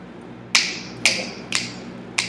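Four crisp finger snaps ring out close by, spaced roughly half a second apart, each a sharp isolated click over a quiet room hum.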